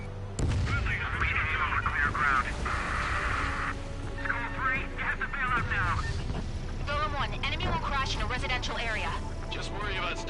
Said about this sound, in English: I'm gonna try to take you out with guns a little bit.